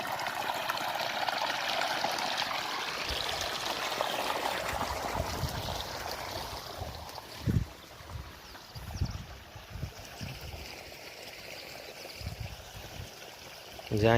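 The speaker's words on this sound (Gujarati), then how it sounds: "જે અહીંયા સુધી આમ ફેલાતું જાય પાણી." Irrigation water from a pump flows through furrows in a farm field, a steady close rushing trickle throughout with a few low thumps partway through.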